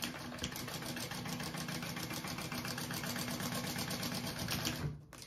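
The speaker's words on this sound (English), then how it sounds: "I'm just gonna sew the top shut real quick to make it easier." A sewing machine runs steadily, stitching the top of a crossbody bag shut, a close, continuous mechanical whir with rapid needle rhythm for nearly five seconds before stopping abruptly.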